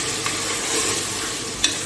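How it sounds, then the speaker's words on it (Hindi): Food frying in a pan for the Bannu dish painda, a steady soft sizzle with occasional faint stirring clinks, close and continuous, with no voices. "अब इसको भी थोड़ी देर के लिए इसमें फ्राई करूंगी"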